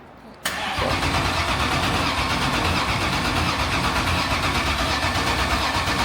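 Race car at a winter event at Utah Motor Speedway catching after a jump start, a sudden loud engine start that settles into a steady, rough, close idle filling the rest of the clip.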